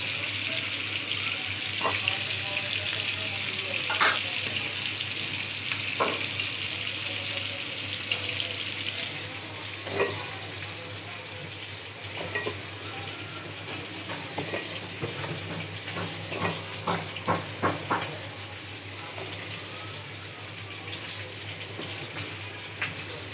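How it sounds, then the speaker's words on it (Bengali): Spice paste frying in a pan as pointed gourd and potatoes are added for sautéing, for a hilsa fish curry: a steady, even sizzle with scattered sharper crackles and pops toward the end, no talk. "এখন আমি পটল আলুগুলো দিয়ে দিচ্ছি কষানোর জন্য।"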